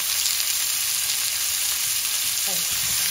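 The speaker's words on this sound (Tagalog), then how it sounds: "Tapos ilalagay ko na itong onion guys" Onion and tomato hitting a hot pan where pork ribs have been browning for sinigang, a loud continuous sizzle with a brief clatter near the end.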